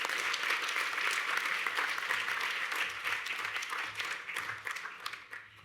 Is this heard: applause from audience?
yes